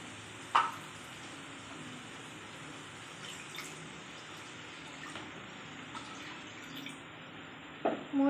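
Faint water pouring into egg curry gravy in a cooking pot, a soft steady trickle with a couple of brief clinks at the start and end, no talking.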